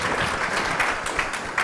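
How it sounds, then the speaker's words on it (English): A live audience at an alumni panel podcast bursts into steady, dense applause, many hands clapping together at close range for a couple of seconds with no talk over it. "Y'all can definitely clap it up."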